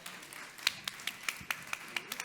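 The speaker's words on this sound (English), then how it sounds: "Bigger round of applause for everyone" Panel audience applause, sparse and quiet: a handful of individual claps at a steady irregular rhythm, faint and somewhat distant, with no speech over it.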